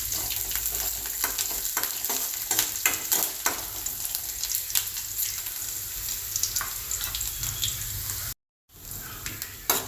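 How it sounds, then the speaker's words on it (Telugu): Steady sizzling and crackling of ginger and green chillies frying in a pan over a low flame, with intermittent stirring clicks, briefly cutting out near the end before resuming. "చిన్న మంట మీద ఫ్రై చేసుకోవాలి."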